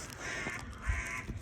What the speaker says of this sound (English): Shut up, Raven! You're ruining the scene!